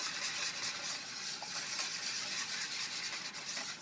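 French toast batter with molasses being whisked together in a bowl, a soft continuous scraping and swishing close by with no talk.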